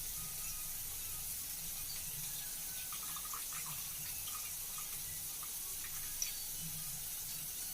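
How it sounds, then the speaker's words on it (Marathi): Soaked chana dal being rinsed and drained, with a faint, steady trickle and splash of water running off throughout and no voices. "त्यातलं पाणी निसळून काढायचं"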